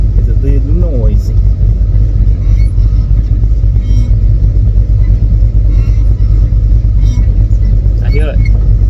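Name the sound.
Chevrolet El Camino truck engine running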